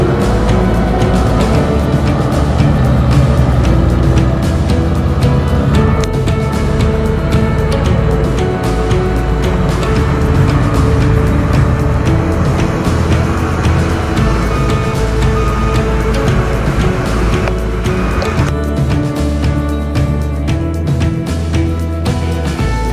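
Trucks loaded with sugarcane rumble through the yard of a sugar mill, a loud, steady engine drone with layered mechanical hum that barely varies throughout, with no voices over it.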